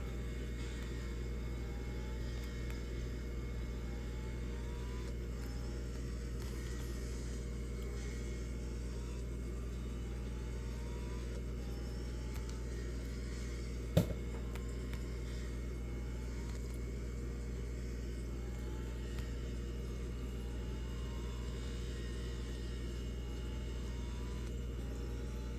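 A car engine races in the Real Racing video game as a steady, droning rumble held at constant level for the whole stretch, with one brief sharp click midway and no speech.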